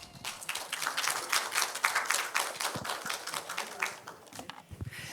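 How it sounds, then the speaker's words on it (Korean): An audience at a conference panel on low birth rate and population aging gives a short round of applause, moderately close and fading toward the end. "오늘 토론에 참여해주신 모든 분들께 먼저 큰 박수 부탁드립니다."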